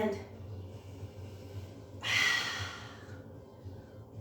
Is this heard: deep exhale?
yes